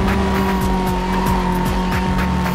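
A car in Need for Speed Most Wanted races flat out without braking, its engine droning loud and steady while the tires squeal through a turn, with no voices.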